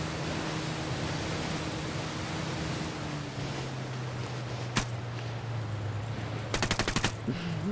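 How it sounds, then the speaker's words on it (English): Gunfire in the video game Ghost Recon Wildlands: a single sharp shot, then a rapid automatic burst near the end, over a steady rushing noise bed. "Wait, are you shooting people already?"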